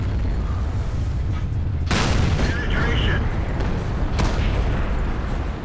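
Heavy tank cannon shots in a World of Tanks-style battle involving an IS tank, two booming blasts about two seconds apart rising over a constant loud game rumble, with someone talking over the action.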